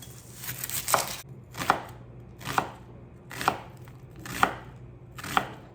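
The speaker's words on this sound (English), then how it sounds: "I'm going to go ahead and chop up my onion." A knife chops an onion on a board in six evenly spaced bursts, each a quick run of cuts ending in a firm knock, close and distinct, with a faint hum between strokes.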